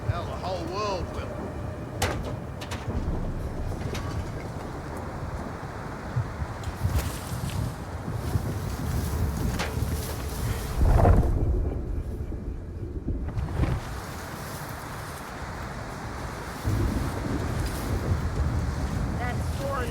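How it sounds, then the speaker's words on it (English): Howling sandstorm wind in the video game Unknown 9: Awakening, a steady roaring gust with rumbling low noise throughout and a heavier thunder-like surge near the middle. "The sandstorm is getting worse."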